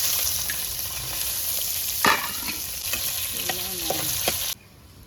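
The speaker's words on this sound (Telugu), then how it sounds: "ఇట్లా ఫ్రై అయిపోతే చాలు. తీసేద్దాము. ఉల్లిగడ్డలు అయితే వేసేద్దాం." Onions sizzle in hot oil in a pan for a chicken drumstick curry, with steady frying hiss and a few scraping stirs of a spatula close up, cutting off abruptly near the end.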